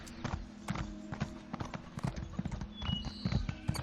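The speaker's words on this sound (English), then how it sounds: "That's a cool horse." Horse hooves clip-clopping in the Elder Scrolls Online game, a steady rapid trotting rhythm of clear close hoof strikes over a faint ambient game background.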